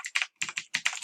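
Quick keystrokes on a computer keyboard come in three short clusters of close, crisp taps separated by brief pauses, quiet and with no voice.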